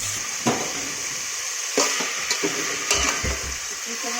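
Ginger paste and whole spices frying in a pan for a quick pulao, a steady bright sizzle with several sharp clinks and scrapes of stirring scattered through.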